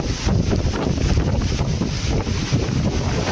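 Strong typhoon wind roars and buffets the microphone in a continuous dense rush, with rain adding a steady hiss throughout.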